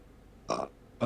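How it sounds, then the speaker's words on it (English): A person burps loudly during a tabletop role-playing game session, with two short, throaty bursts close to the mic, the second cut off at the end, over a quiet room. "I burp on him."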